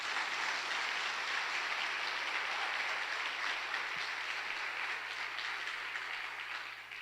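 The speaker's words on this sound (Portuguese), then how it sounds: "Aplauda ao Senhor." A church congregation at a parish Mass applauds steadily, a dense, even wash of many hands clapping from start to finish that fades slightly at the close.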